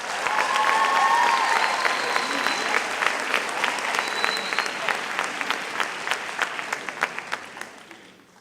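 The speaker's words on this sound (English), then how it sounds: "I think you all need to give yourselves a round of applause" Audience applause at a school sports awards ceremony swells to a loud, dense roar, then thins into scattered individual claps as it fades away.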